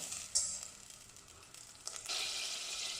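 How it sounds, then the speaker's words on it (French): Butter melting in a pan for a béchamel, with a soft, quiet sizzle that crackles briefly and then swells into a steadier hiss near the end, with no talking. "Je vais fondre un peu de beurre"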